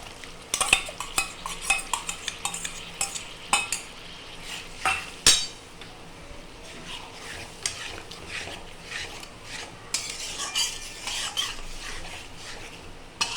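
A paste of ground cashew, raisin and poppy seed sautéing in a pan, with soft sizzling under repeated scraping and clinking of a spoon against metal, irregular stirring strokes, close and fairly loud, no talking.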